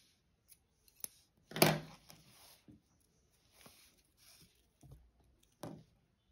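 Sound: scissors cutting crochet yarn

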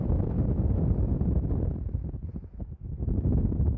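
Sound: wind

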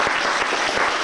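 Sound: audience applause for Henk Heijsens

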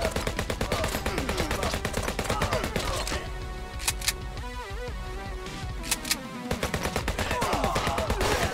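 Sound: gunfire from video game HyperParasite

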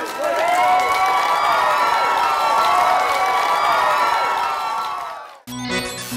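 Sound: applause and cheering

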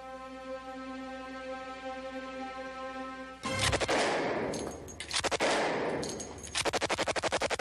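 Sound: Thompson submachine gun (Tommy Gun) firing

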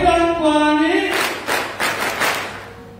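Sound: audience clapping

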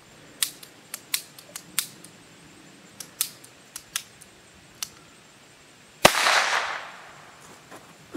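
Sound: gunshots fired at radiation proof plastic

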